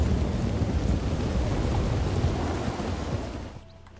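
A deep rumble of thunder rolling through steady rain in the video game Red Dead Redemption 2, loud and close, then quickly dying away.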